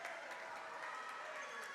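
A home crowd at the Bill Cook Gymnasium roars and applauds during a women's college volleyball match, steady rapid clapping and cheering at a faint distance under a commentator's voice.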